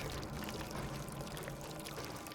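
Water pours steadily out of a ceiling in the horror game Layers of Fear 2, a constant, even splashing rush with no talking.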